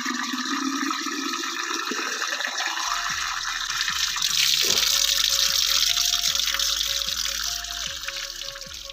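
Water running from a tap in a hillside village and being collected in a container, a steady splashing stream that turns into a rising, gurgling fill with bubbling notes, loud and close.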